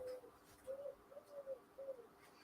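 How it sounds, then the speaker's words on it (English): A pigeon coos in a soft, repeated pattern of low, hollow calls, about four short phrases over a couple of seconds, faint and distant against a quiet background. "Can you hear a pigeon?"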